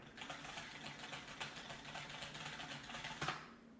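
Rapid typing on a computer keyboard, a quick continuous patter of close, quiet key clicks with a slightly louder burst of keystrokes near the end.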